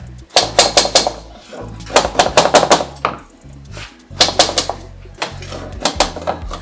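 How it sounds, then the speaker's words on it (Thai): Quick bursts of hammer taps knock the corners of an aluminium window screen frame together, coming in clustered groups of sharp metallic knocks, close and loud, with short pauses between sets. "เมื่อ ประกอบแล้วมันก็ยังเข้าไม่สนิท เราก็ต้องมาใช้ค้อนเคาะ"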